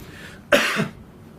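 A single sharp cough from a lingering flu bursts out close by, with a short rasping tail, against quiet room tone.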